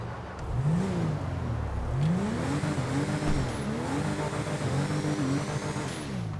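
Engine of the Vapid Unmarked Cruiser police car in GTA Online, revved repeatedly in rising and falling sweeps, loud and close with a throaty mid-range growl and no talk.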